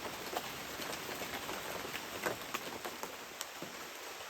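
Steady rain patters through a dense rainforest, a soft continuous hiss of drops broken by scattered sharper taps on leaves and surfaces, fairly quiet and with no voices.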